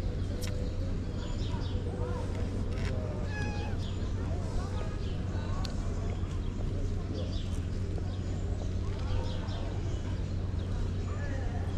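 A hungry cat meows repeatedly after finishing its kibble, fairly faint indoor calls scattered over a constant low hum and background noise.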